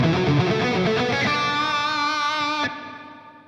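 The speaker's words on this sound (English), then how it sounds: "If we turn the color up to halfway," A strummed electric guitar passage through a Dunable Eidolon pedal's reverb with the color knob halfway, a bit brighter, ending on a sustained chord that stops abruptly into a brief decaying wash.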